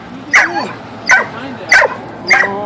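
An excited dog barks four times in sharp, evenly spaced yelps, close and loud, each with a slight whine to it.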